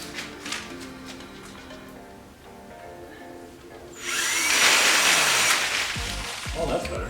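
A power drill used for spin-art painting whirs up to speed partway through, a loud rushing spin with paint spattering, preceded by quieter handling noises and followed by a few thumps; a voice talks early on.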